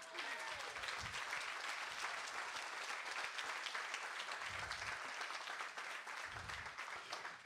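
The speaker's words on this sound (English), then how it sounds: "Let's clap it up for them one more time." Congregation clapping in a church service, a dense, sustained round of applause heard at a moderate distance that carries on evenly throughout, with a few low voices murmuring beneath it.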